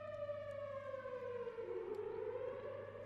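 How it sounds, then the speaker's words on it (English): A long wailing civil-defense-style siren, reworked for a Studio Ghibli sound redesign with heavy reverb, sounds distant and washed out as its tone slowly falls and rises, faint and continuous with no voices. "We're going from a very dry to half wet to fully wet reverb on this siren here to give it some distance."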